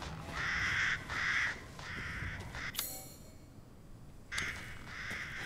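Crow in Resident Evil Village cawing in short repeated bursts, fairly clear against a low ambient background, with a brief metallic clank in the middle before more caws.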